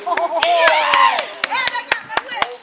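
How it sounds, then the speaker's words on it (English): A small crowd claps sparsely at a backyard wrestling show, sharp separate hand claps in an uneven rhythm, heard close and mixed with talking and shouting voices. "I'll clap for that."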